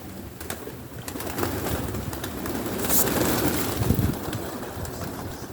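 Pigeons coo softly at moderate distance over a steady low outdoor rumble, with a few sharp chirps scattered throughout.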